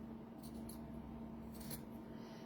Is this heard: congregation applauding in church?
no